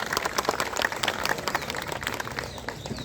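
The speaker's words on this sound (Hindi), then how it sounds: "एक बार जोरदार तालियों से स्वागत और अभिनंदन।" A crowd claps at a sit-in protest at Jantar Mantar, a steady patter of many hands at moderate volume that carries through the short stretch.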